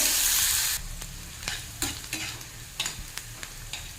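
Sliced onion and green chilies sizzle in mustard oil in a wok. A louder burst opens the clip, followed by a steady hiss and a string of sharp scraping stirs.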